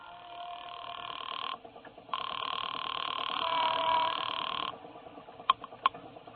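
A payphone at a gas station rings through the handset: a steady electronic tone in long pulses with a gap between, followed by a couple of sharp clicks near the end, faint and boxy.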